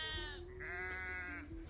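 Sheep, including a Dorset ewe, bleat clearly at a farm feeding time. One long, wavering bleat stands alone and close by, followed by a shorter call.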